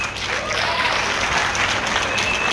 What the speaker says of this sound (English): Huge round of applause for the artists for here on the stage.